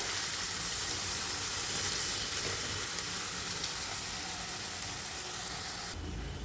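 Two large sliced onions sauté in a hot pan, sending up a steady, dense sizzle that holds evenly throughout and dips slightly near the end.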